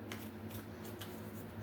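Soft riffling and flicking of tarot cards being shuffled, a brief papery burst with quiet hum underneath and no voices.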